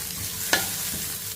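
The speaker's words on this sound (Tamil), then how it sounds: "வதக்கிடுவோம்." Chopped onion and carrot sautéing in a pan, a steady soft sizzle with a single sharp tap of a spoon against the pan partway through.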